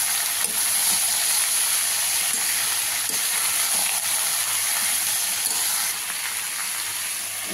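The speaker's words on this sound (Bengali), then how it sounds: "দেখুন বন্ধুরা, প্রায় ভাজা হয়ে এসছে" Ivy gourd (kundri) fries in a pan, a dense continuous sizzle and hiss heard up close and fairly loud, easing slightly near the end with no one talking.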